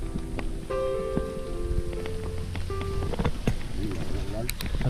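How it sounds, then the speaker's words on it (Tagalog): Steady rain patters on surfaces throughout, with a few brief tonal sounds and faint voices in the background, near Mt. Kanlaon at Guintubdan after its eruption. "ulan yan"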